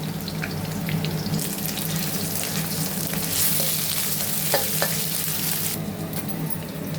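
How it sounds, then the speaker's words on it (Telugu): Curry leaves and ginger garlic paste frying in oil, a loud continuous sizzle up close with scattered spatter pops and stirring scrapes, no one speaking. "కరివేపాకు వేస్తున్నాను, కొంచెం అల్లం వెల్లుల్లి పేస్ట్ వేస్తున్నానండి."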